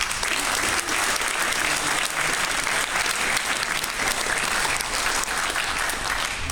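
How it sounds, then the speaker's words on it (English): Sustained applause from a large crowd at a Dennis Prager talk in Berkeley, California, loud and steady throughout without letting up. "Let's get another round of applause."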